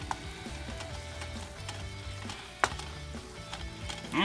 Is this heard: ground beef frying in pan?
yes